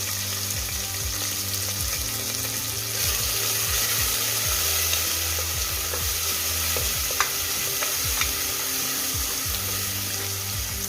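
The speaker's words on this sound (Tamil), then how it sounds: "ஒரு மீடியம் சைஸ் பெரிய வெங்காயத்தை ஆட் பண்ணிக்கலாம்" Chopped onion sizzles and fries in hot oil with cinnamon, cloves and cardamom in a pressure cooker, a steady close crackle with stirring scrapes and a few sharp pops, no talking.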